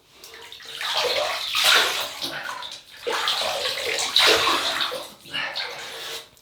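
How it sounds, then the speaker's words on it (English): Water running from a tap into a basin while a face is wetted for a shave, a steady splashing flow with swells and dips as hands move through it, fairly close and moderately quiet. "we'll just wet the face."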